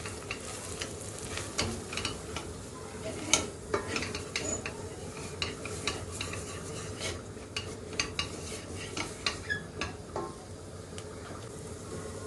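Tarhana being toasted with vegetables in oil in a pan for tarhana soup, a low sizzle under frequent close scrapes and clinks of a spoon stirring against the pan.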